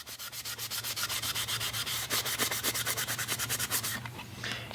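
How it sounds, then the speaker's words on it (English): Fast, even back-and-forth scrubbing of an abrasive pad over the rusty metal of an antique hand plane, close and loud, with regular rapid strokes that stop near the end. "Go over it just like this with my pad, and try to get whatever rust"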